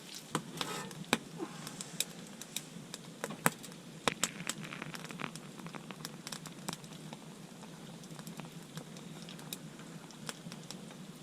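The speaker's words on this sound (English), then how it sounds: "Bacon is just starting to get crispy." Bacon frying in a pan in a heated ice-fishing tent during cold weather, a steady low sizzle with scattered crisp pops and crackles, close and fairly quiet, with no talking.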